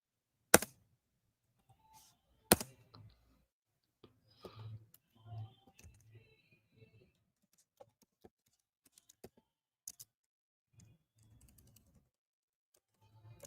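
Someone types on a computer keyboard while preparing forex trading notes. Sparse, soft key clicks come in short irregular bursts amid near silence, with a couple of sharper knocks.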